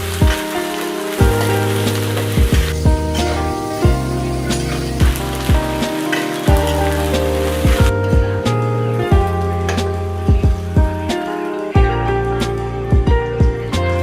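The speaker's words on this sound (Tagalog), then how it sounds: "E-prito lang muna ang patatas at carrots hanggang sa medyo magtusta." Potatoes and carrots fry in a pan for a home-style chicken curry, a steady close crackling sizzle running the whole time beneath background music.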